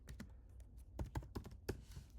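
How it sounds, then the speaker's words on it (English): Quick, irregular clicks of keys being typed on a computer keyboard, close and fairly quiet, with no voices. "just literally me typing"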